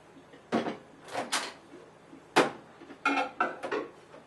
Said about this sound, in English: now you need to put the glass cover on the glass bowl and put it in the microwave.